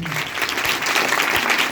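Loud, dense applause from a church congregation fills the moment, steady clapping throughout with no gaps.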